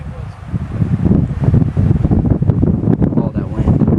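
Strong wind blows across open ground on a long hike. It buffets the microphone in a continuous loud rumble with rising and falling gusts, and voices may come through faintly.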